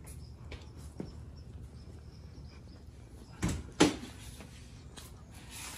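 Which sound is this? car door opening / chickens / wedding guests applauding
car door opening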